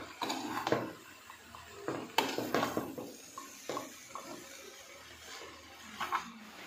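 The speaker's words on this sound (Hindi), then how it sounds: "अब मैं इसमें चम्मच हिला लूँगी दोबारा से।" A spoon scrapes and clinks as mixed vegetables are stirred in a pan for a Chinese-style mixed vegetable dish, soft irregular scraping strokes close up with wet sizzling between them.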